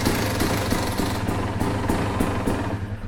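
A KTM 300 two-stroke dirt bike fitted with a Lectron Billetron Pro carburetor idles close by, a steady low burbling rumble with a regular pulsing beat, running alone without talk.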